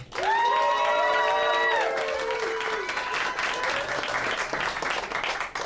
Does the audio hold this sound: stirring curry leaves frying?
no